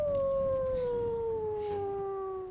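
A wolf howls in the WolfQuest video game, one long sustained tone with clear harmonics that slowly slides downward in pitch, loud and close, standing alone without talk.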